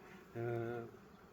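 Honey bees at hives during spring syrup feeding, one brief close buzzing drone with a steady pitch that lasts about half a second over quiet background.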